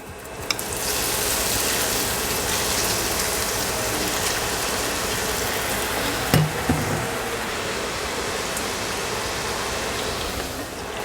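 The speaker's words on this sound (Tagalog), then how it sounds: "etong hotdog naman ang prituhin natin" Hotdogs frying in hot cooking oil in a home kitchen, a steady close sizzle and crackle that fills the whole span with only a brief clink partway through.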